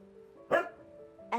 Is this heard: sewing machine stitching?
no